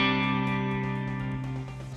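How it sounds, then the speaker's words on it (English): Electric guitar run through a reverb pedal on a worship pedalboard, giving a cave-like echo: a loud, sustained, distorted chord rings out and slowly decays over two seconds, with no voices. "turn this pedal on. You can hear it's kind of, you get a whole bunch of echo reverb like you're in a cave"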